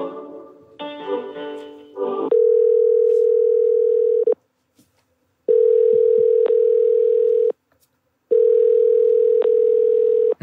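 A phone line during a call transfer to an apartment leasing office gives three long steady ringback tones, each about two seconds with gaps between, clear and loud, after a brief burst of hold music.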